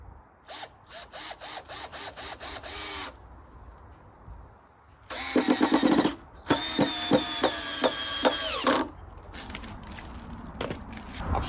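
A power drill drives screws into a timber shed frame in short, repeated whirring bursts, loud and close, with a ratcheting rattle between runs and pauses between screws.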